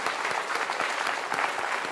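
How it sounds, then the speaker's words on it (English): A lecture audience bursts into applause, dense and continuous clapping from a full room, evenly loud across the whole stretch with no speech on top. "can we have an applause to Professor Ayala?"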